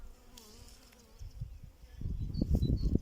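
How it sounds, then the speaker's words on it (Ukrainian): Honeybees fly around beehives outdoors, a low close buzzing that swells louder toward the end. "Бачите, літають бджілки."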